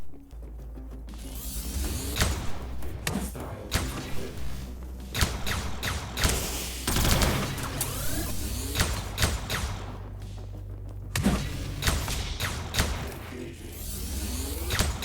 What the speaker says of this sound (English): Everything except my own gunshot sounds are extremely quiet in this game.